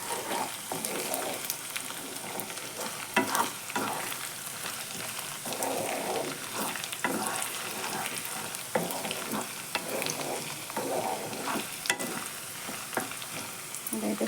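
Ginger garlic paste fries on high flame for chicken pickle, a steady close sizzle with crackling spits and repeated scraping stirs of a spoon against the pan.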